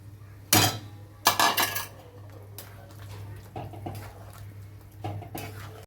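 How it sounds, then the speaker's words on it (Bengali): Mushrooms tumble into simmering gravy in a pan for mushroom masala, two clattering clinks of utensil on pan followed by quieter scraping and soft knocks over a low steady hum. "এবার ঝোলের মধ্যে মাশরুমটা ঢেলে দিচ্ছি"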